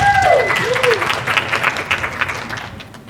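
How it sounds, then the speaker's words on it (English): An event audience applauds a sponsor at a lifestyle and wine gathering, a burst of loud clapping that gradually thins out, with a rising and falling whistle-like tone near the start. "Please give him a round of applause"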